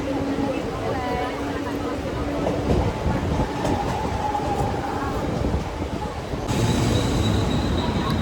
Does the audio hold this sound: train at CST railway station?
yes